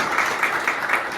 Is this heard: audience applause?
yes